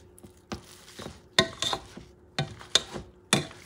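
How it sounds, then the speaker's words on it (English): Boiled potatoes being squashed and mixed with melted butter in a pot, quiet close squelching bursts at an irregular, unhurried rhythm. "And you start squashing and mixing things up."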